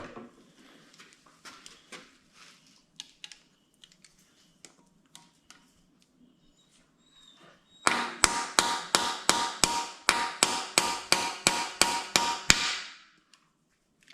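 Metal hammer blows drive parts into a junkyard 5.3 LS engine, first as scattered light taps, then a rapid run of loud, evenly spaced strikes close by before stopping abruptly.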